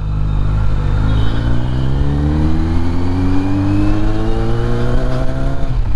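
A motorcycle engine drones loudly and steadily while riding on a city road, its pitch slowly rising as it accelerates, with wind and road noise mixed in and no talk.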